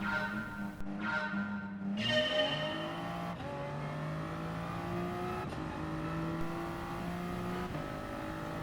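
Race cars pulling away at the start in GT Sport at Dragon Trail Gardens, including an Aston Martin: engines rev and climb through gears in rising, shifting whines, with several cars close together at moderate volume.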